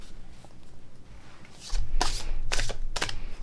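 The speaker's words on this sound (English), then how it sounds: "let's shuffle and pull a card" Oracle cards are shuffled in a few quick, crisp riffling bursts, close up, with a soft handling rustle between them.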